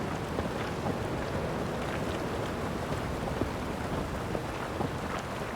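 Steady rain falls in a stormy outdoor scene in The Witcher 3: Wild Hunt, a constant hissing patter with faint low rumbles of thunder beneath it.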